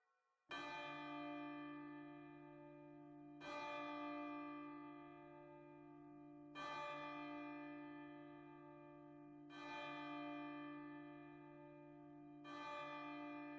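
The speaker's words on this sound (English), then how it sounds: "the heavy bell went on from 6 to 7, and from 7 to 8, and regularly up to 12" A heavy church bell strikes the hour, five slow, loud tolls about three seconds apart, each ringing out and decaying into the next, with no voices.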